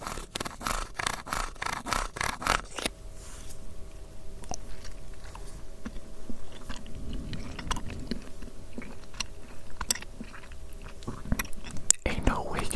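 Close-up, wet chewing and biting sounds in an ASMR eating roleplay, soft and intimate near the microphone, with whispered talk in the opening seconds.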